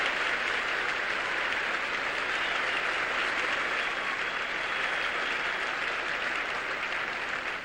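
An arena audience at a 1973 Soviet gymnastics display in Houston gives Olga Korbut sustained applause, a thick wash of clapping that stays loud and even before easing slightly at the very end.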